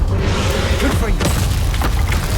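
A Confringo blasting spell in Hogwarts Legacy detonates with a heavy, booming blast, followed by crackling debris and a couple of sharp bursts, all loud and close.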